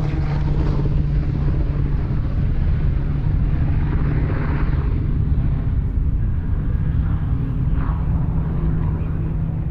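A Pratt & Whitney powered Yak-3 UPW fighter flying by, its piston engine a loud, continuous low drone holding steady throughout with a broad rumbling roar.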